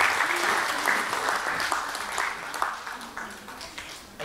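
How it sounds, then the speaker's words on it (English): Sustained applause from an awards ceremony audience fills the space, steady and fairly loud, tapering slightly toward the end. "can we give a round of applause for the youth category?"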